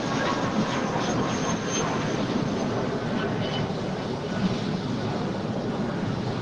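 A jet airplane taking off at LAX gives a loud, steady broadband engine roar that holds without pause, heard alone with no talking.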